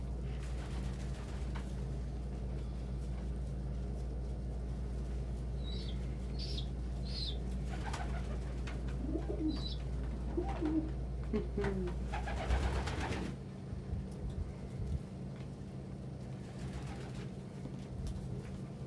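Pigeons or doves around a feeding spot at breakfast time, giving a few soft coos and chirps over a steady low background hum, with brief wing flutters midway.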